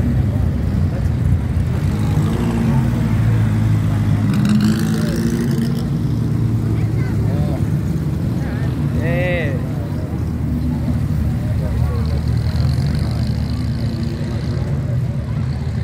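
Vintage cars, including old Jaguars and a Fiat, rumble and race past with steady engine roar and a few rising passes, while people talk over the noise.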